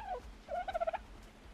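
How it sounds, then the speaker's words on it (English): A chicken in the survival game ARK Survival Evolved gives a short, faint burst of clucking, a quick run of pulsed notes lasting under a second with no talk over it. "There's a chicken."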